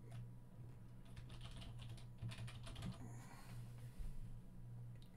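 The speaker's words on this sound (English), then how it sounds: "You may actually have to type in just Civilization" Quiet computer keyboard typing, a run of soft irregular key clicks close by over a low steady hum, no talking.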